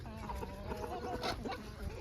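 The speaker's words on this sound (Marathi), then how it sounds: "हे गावरान पण लय येड्या कोंबड्या" Country-breed hens cluck softly and intermittently nearby, a few short throaty calls over low background noise.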